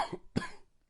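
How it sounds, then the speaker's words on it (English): Two harsh, raspy coughs from a man, close and isolated, with a short gap between them. "his whole body subsumed by the raspy, racking cough"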